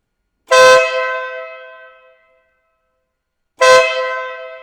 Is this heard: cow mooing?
no